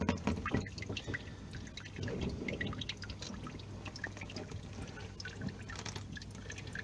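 Water siphoned through a hose out of a fish pond, a faint steady trickle and gurgle with small drips and splashes outdoors, continuous and fairly quiet with no talking.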